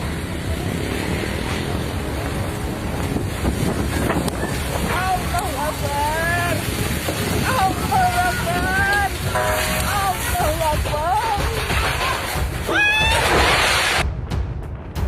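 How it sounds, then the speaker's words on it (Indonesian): Strong storm wind gusts roar steadily near a hospital in Wonosari, Gunung Kidul, Yogyakarta, loud and continuous with harsh buffeting against the microphone, while faint voices are heard under the din. "Inilah situasi saat angin menerjang di daerah dekat RSUD Wonosari, Gunung Kidul, Yogyakarta."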